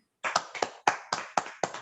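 Clapping at a 70th birthday celebration: a short run of about eight sharp, distinct hand claps in an even rhythm, close and clear with quiet gaps between them and no talk.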